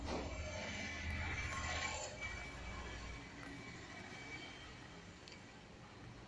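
A train rolls along in a railroad video game set in Italy, giving a steady, moderately loud rumble of wheels and cars with faint squeals and mechanical clatter, and no talking.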